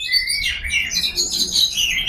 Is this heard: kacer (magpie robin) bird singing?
yes